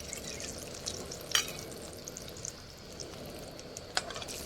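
Egg chops coated in biscuit crumbs frying in oil, a soft steady sizzle with a couple of sharp clinks of utensils against the pan, no talk.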